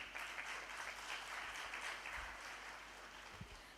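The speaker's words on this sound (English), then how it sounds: "Please give her a huge round of applause, everyone." Dense applause from a large crowd at the Miss World Bangladesh pageant, heard at a distance, rolling on steadily and fading slightly near the end.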